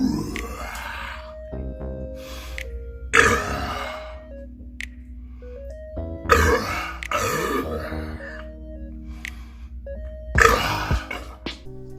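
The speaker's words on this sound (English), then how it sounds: "Just 5 small burps won't cut it for me." Someone lets out a series of separate short burps, several distinct throaty bursts spaced a few seconds apart, loud and close against a steady low background hum.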